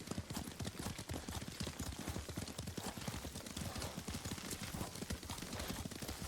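Rapid clip-clop of horse hooves at a steady gallop in the video game Ghost of Tsushima, continuous and fairly close, with a faint voice in the background.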